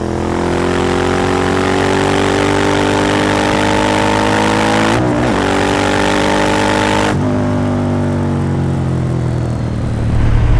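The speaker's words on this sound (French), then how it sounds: "Moto de 2003, 120 chevaux bicylindre, position de sportive relativement classique, un bonheur" A 2003 Suzuki SV 1000 S, a 120-horsepower twin-cylinder sport motorcycle, pulls hard under acceleration, its loud engine note climbing steadily in pitch, dropping briefly at a gear change, then rising again.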